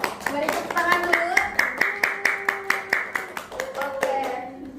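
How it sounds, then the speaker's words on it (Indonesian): A classroom of students claps in rhythm during a geometry micro-teaching lesson, sharp close hand claps in a regular beat with a voice calling out over them. "Mari tepuk tangan dulu."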